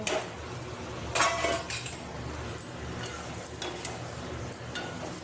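Spatula scraping and clinking against a cooking pan as eggs are stirred with oil and spices, a few louder metallic scrapes over a steady low background, no talk.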